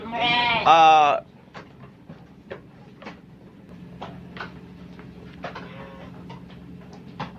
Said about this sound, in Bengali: এই গারল